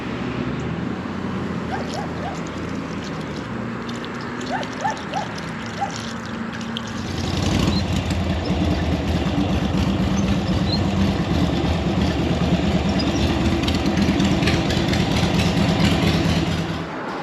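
A chopper motorcycle engine runs steadily with a low, rough idle that grows louder and fuller partway through, then holds at a constant rumble with no talking.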